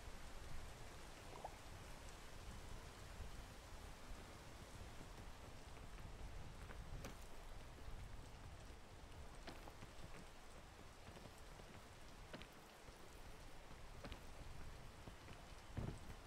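Steady rain falls in the mountain-climbing video game Peak, a soft continuous hiss of drops with occasional sharper patters, even and fairly quiet throughout with no voices.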